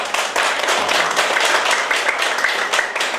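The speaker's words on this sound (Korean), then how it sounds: "다시 한번 박수로 부탁드립니다" Audience at a Korean gathering about the Koryo-saram claps in a loud, close burst, with individual hand claps distinct and slightly uneven in rhythm.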